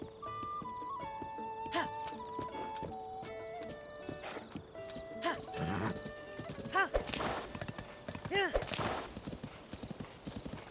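In the video game Tears of the Kingdom, a horse's hooves clip-clop in a steady trotting rhythm, mixed with musical chimes and game effects and a brief whinny, moderately loud and close.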